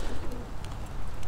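Racing pigeons in a loft make soft cooing calls over a steady, rough background rustle, fairly close and brief.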